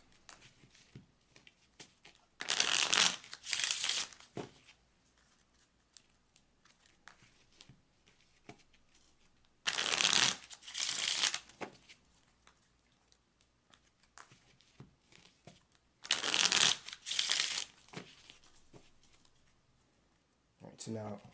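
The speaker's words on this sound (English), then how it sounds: "let me go back to shuffling the cards" Tarot cards being shuffled by hand in three separate bursts of riffling and crisp papery clatter, each about two seconds long, with quieter handling and soft rustles between them.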